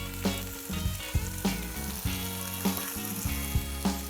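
Tomatoes and chilli sizzling in oil in a pan over fairly low heat, a steady crackling fry with clicks and small pops, no talking.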